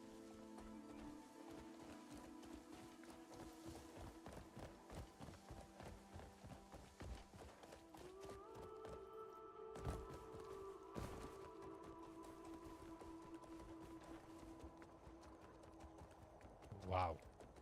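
Horse hooves in the video game Crimson Desert, a rapid rhythmic clip-clop of galloping steps running steadily under game music, with a few heavier thuds.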